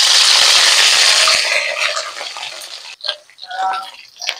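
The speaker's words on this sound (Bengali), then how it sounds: "তেল, বেটে রাখা মশলাটা এবার দিয়ে দেব।" Ground spice paste hits hot oil for a potato and spiny gourd curry, setting off a loud, dense sizzle that fades after a couple of seconds into quieter stirring and scraping in the pan.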